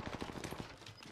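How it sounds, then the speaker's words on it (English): Rapid automatic gunfire in Call of Duty, a dense burst of repeated shots in quick rhythm over about a second, fairly close and loud. "He's shooting at me."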